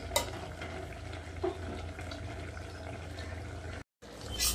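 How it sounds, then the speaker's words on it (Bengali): Khalse fish and eggplant curry in a pan being stirred, a soft continuous simmering sizzle with faint scraping of a spoon throughout, no voices, then a brief break near the end. "ঢাকনা খুলে ভালো করে নাড়িয়ে নিলাম"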